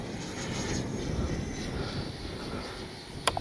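A Freewing F9F-8 Cougar 80mm RC jet passes slowly into the wind with its gear down, a faint, steady turbine hiss mixed with low wind rumble, ending in a brief sharp click.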